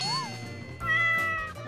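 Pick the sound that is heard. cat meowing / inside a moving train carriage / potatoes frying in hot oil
cat meowing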